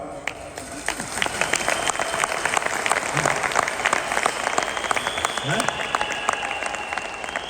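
Steady, loud applause from an audience at a motivational session, dense clapping sustained throughout without a break.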